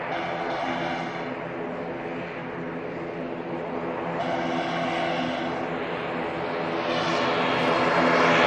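An EasyJet airliner bound for Belfast rolls for takeoff at Manchester Airport, a sustained engine roar that builds gradually toward the end, distant but strong, with no voices.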